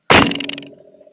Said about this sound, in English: then you're going to take your clay and throw it down like this.